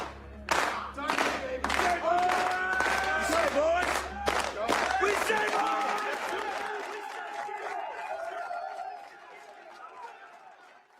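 Applause builds in the slow clap scene from the movie Varsity Blues, moving from separate, spaced claps to dense clapping with crowd cheers that slowly fade.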